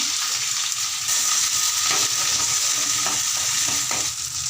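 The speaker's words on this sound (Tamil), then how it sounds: "ஜீரகம் போட்டுக்கும், வெங்காயம் போட்டுக்கும், சின்ன வெங்காயம் போட்டுக்கும், பச்சை மிளகாவும் போட்டுக்கும்" Onions, shallots, green chillies and cumin fry in a pan for a fish gravy, giving a steady close sizzle with scraping stirring strokes and no talk.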